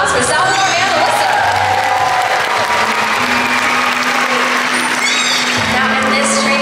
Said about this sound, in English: How about a round of applause for Salvador and Alyssa?